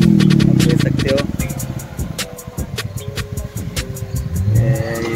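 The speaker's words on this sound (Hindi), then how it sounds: "देखो ये हमारे भाई गाड़ी लेके जा रहे हैं, एक गाड़ी और आ रही है" A car driving through deep flood water in Bazpur, its engine running close by with splashing and water noise, and a second vehicle approaching, while someone talks over the scene.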